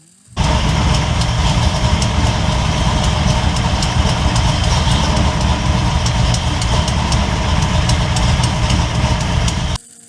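A car engine with a Holley 36-1 crank trigger setup, replacing a dual sync distributor, starts abruptly and settles into a loud, steady, slightly lumpy idle with rapid ticking pulses. It runs continuously for about nine seconds, then cuts off sharply.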